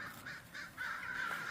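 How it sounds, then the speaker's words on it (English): Several crows caw outside at dawn, a run of harsh calls repeating at moderate distance, the later calls louder and more sustained. "a few crows for you"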